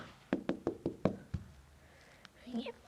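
Knocking at a door: a quick run of six sharp raps, close and fairly loud, followed by a lone faint tap and a short murmur of a young voice near the end.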